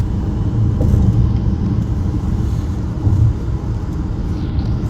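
A car cruising on a highway heard from inside the cabin, with a loud, steady low engine and road rumble that barely changes, no talking.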